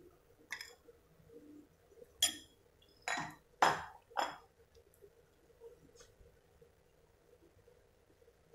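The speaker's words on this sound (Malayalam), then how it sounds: "ഇനി ഇതിലേക്ക് ഈ ഡ്രൈ ഇൻഗ്രീഡിയൻസ് ചേർത്ത് കൊടുക്കാം." Dry ingredients are folded into cake batter in a bowl, giving a few distinct scraping clinks and taps of a utensil against the bowl in a quiet kitchen, spaced irregularly with pauses between.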